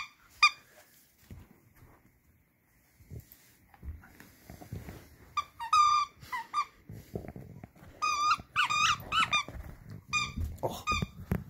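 A Kong Wubba squeaky dog toy squeaks repeatedly as a dog chews it in a room full of toys, giving sharp close squeals in irregular clusters with quiet gaps and some faint thumps and rustling between them.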